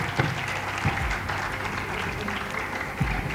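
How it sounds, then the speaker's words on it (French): Audience at a school quiz match between two secondary-school teams applauding a correct answer, a brief burst of many hands clapping at an even level, with a few louder thumps mixed in. "On a applaudi."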